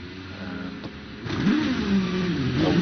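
A Gould GR59J hillclimb race car sits at the start line with its engine idling, then revving up in rising and falling surges that grow louder partway through. The car sounds close and no one speaks.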